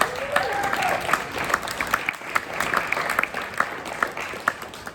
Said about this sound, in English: We have another round of applause.